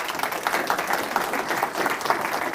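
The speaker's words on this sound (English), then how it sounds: "Round of applause." Applause from an audience at a Department of Homeland Security Secretary's awards ceremony in San Antonio, Texas: steady, dense clapping of a sizeable crowd, continuous and fairly loud throughout with no gaps.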